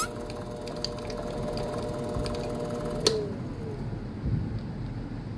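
A lathe turns a piece of Delrin with a butter knife used as the cutting tool, giving a steady whirring machine drone with faint scraping, a sharp click near the middle and a slight dip in the high tones afterward.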